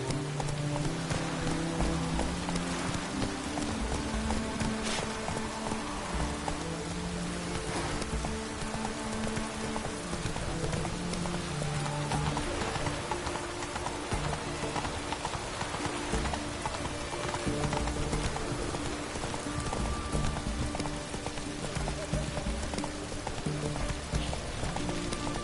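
In The Witcher 3, the horse Roach trots through rain, hooves clip-clopping in a steady rhythm beneath a constant hiss of rainfall, with faint game ambience throughout.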